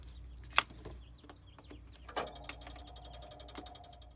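Ratchet tightening bolts during a fuel injector install, with a few scattered clicks and a knock, then a rapid run of close, fairly quiet ratcheting clicks.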